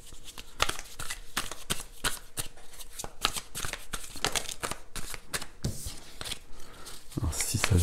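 Playing cards drawn and slid from a deck, a run of quick papery flicks and snaps in an irregular rhythm, close and fairly quiet, ending in a busier shuffle of cards.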